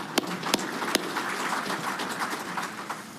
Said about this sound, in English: Y'all can give him a round of applause.